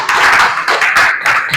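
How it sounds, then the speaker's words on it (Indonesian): Audience clapping in a classroom gathering, a short burst of several hands in bunched pulses about four times in quick succession, close and fairly loud. "tepuk tangan untuk Zakil."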